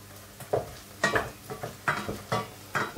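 Chunks of bread and garlic fry in olive oil for a Spanish garlic soup, with about half a dozen spaced stirring scrapes over a low sizzle, heard close.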